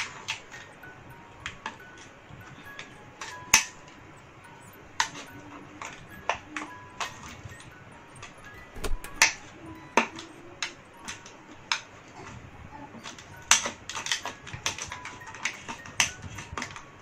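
Repeated crisp snips of scissors cutting thin plastic, close and fairly quiet, coming in irregular bursts with short gaps.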